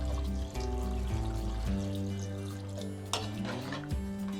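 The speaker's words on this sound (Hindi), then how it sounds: "और अब इसमें इतना पानी शामिल करेंगे कि दाल, चिकन और आलू गल जाएं।" Water is poured into a cooking pot holding moong lentils, chicken and potatoes for shaami kabab, a close, continuous gurgling pour whose tone shifts as the pot fills, with no talking.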